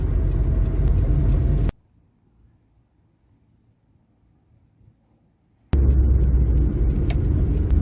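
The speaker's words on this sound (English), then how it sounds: "It's amazing to be driving around in such a rare car." Engine and road rumble from a rare early-1980s Nissan/Datsun classic car being driven, steady and fairly loud, dropping to near silence for about four seconds before the droning resumes.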